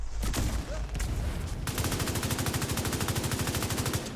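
A flame multi grenade fired in a video game: a few sharp blasts, then a long, fast, even rattle of repeated bursts, loud and steady for several seconds with no talk.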